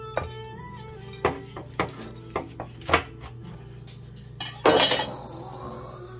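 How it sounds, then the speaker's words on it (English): A knife cutting open a fried pastelón-filled empanada on a plate, giving a series of sharp clinks and taps against the dish followed by a brief crunchy scrape, close and with no talk. "We're gonna just go ahead and grab a knife and let's cut it open."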